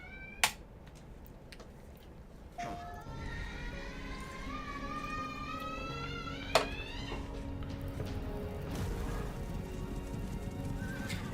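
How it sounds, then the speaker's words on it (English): Horses gallop and neigh in the trailer for an arcade horse-racing game, with rapid hoof clip-clops under rising whinnies over a soundtrack-like bed and a couple of sharp accent hits. "All right, horses."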